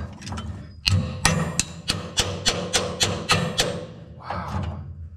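Sharp, repeated hammer blows strike at a steady rhythm, about a dozen close metallic-wooden knocks, loud and near, with a short scraping rattle at the end.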